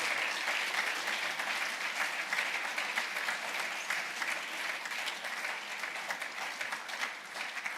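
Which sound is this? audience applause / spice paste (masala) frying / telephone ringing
audience applause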